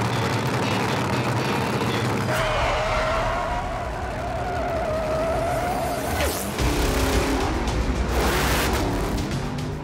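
Drag race cars at San Antonio Raceway in Texas, part of the largest drag race series in the US, roar continuously and loudly, with a rising whine as one car launches and another surge of engine noise near the end.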